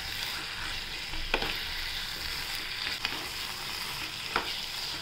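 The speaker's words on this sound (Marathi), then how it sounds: "हलवून घेऊया" A watery vegetable curry sizzles softly and steadily in a pan while a spoon stirs it, with three sharp scrapes against the pan spaced a second or so apart.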